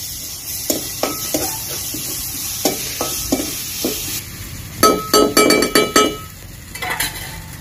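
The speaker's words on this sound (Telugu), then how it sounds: "ఇప్పుడు అల్లం వెల్లుల్లి పేస్ట్ కొంచెం వేస్తున్నాను అనమాట." Ginger garlic paste going into a hot pan with onions and green chillies, frying with a steady sizzle under repeated stirring and scraping strokes and a few sharper clinks of utensil against the pan, close up with no talking.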